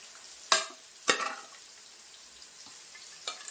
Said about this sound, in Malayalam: അപ്പൊ ഇതുപോലെ ഞാൻ എല്ലാം ഒന്ന് ഫ്രൈ ചെയ്തെടുക്കട്ടെ